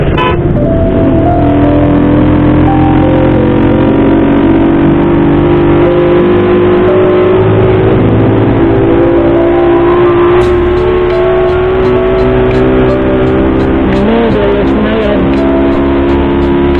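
A loud, rough motorcycle engine runs continuously up close, droning and vibrating with a gradually rising pitch, harsh and noisy throughout, no voices.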